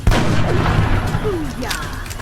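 Gunfire in the tactical game XCOM: Enemy Within, a sharp loud blast at the start followed by rumbling echo and whooshing effects, with a voice also present.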